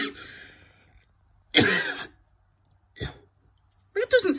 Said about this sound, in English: Is this the smoking that's doing the cough?